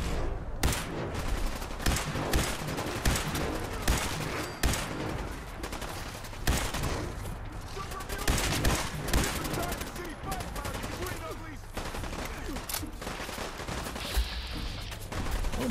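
Gunfire in the post-apocalyptic role-playing shooter Fallout 4, dense rapid shots and bursts across the whole stretch, loud and near, with a voice speaking at times under the noise.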